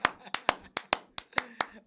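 Rhythmic clapping from a television show audience, about nine sharp, evenly paced claps close to the microphone, with voices chanting along between them.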